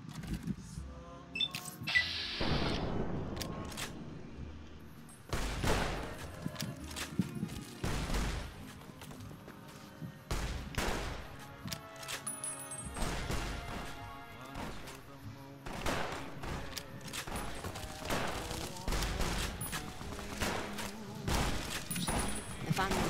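Gunfire from a worn-out weapon in Fallout: New Vegas, a string of sharp, loud shots and impacts spread irregularly across about twenty seconds, mixed with other game noises.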